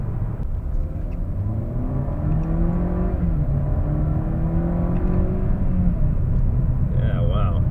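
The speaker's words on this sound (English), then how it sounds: "The car genuinely accelerates quicker." A Mercedes C180 W204 fitted with a RaceChip GTS tuning box accelerates, its engine drone rising steadily in pitch under a constant cabin rumble, heard from inside with no one speaking.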